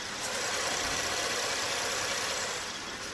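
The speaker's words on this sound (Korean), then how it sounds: "규칙적인 엔진 사운드 들려주고 있고요" A Chevrolet Impala's 3.6 V6 engine idles smoothly and evenly with the hood open, a constant mid-pitched hum with a faint regular knock, no talking over it.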